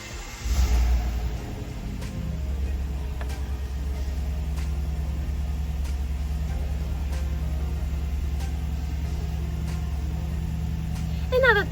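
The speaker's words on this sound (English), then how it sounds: "now that the engine is running and the dashboard's lit up" A 2021 GMC Sierra 1500 Elevation pickup with push-button start fires up with a brief surge, then settles into a steady, low idle rumble that holds close and even throughout, ending with a small bump of noise.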